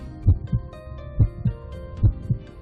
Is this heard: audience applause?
no